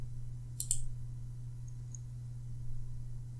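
A quick pair of sharp, close computer mouse clicks while editing in Movie Maker, followed by faint ticks over a low steady hum, no talking.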